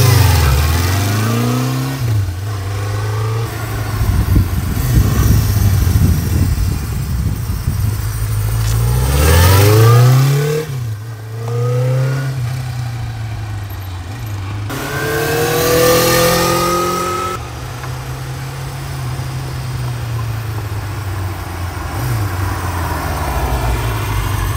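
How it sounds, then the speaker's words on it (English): A restored 1978 Honda CB550K Four motorcycle runs loud and close, its inline-four engine revving up and down repeatedly with rising and falling pitch sweeps between steady idling stretches. "I don't know if the video does it justice for how well and smooth this thing pulls"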